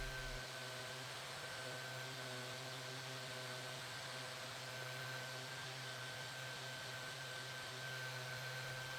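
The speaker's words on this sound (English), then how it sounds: "the sander with 150 grit pad does an amazing job of cleaning up that surface" A power sander fitted with a 150 grit pad cleans burn marks off scrap wood for a knife block, a steady close motor whine with a constant hum that holds unchanged throughout, no voices.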